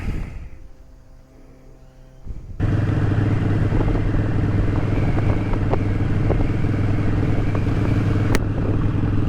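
A motorcycle fitted with a throttle lock sets off on a test ride, its engine cutting in abruptly and then droning steadily and loudly with rushing wind noise throughout.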